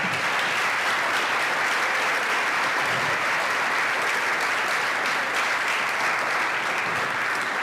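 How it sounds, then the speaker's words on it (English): Steady applause from an audience at a school orchestra spring concert, a dense even wash of clapping that runs throughout at moderate distance. "So, yes, we can clap for that."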